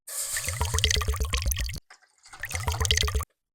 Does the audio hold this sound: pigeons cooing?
no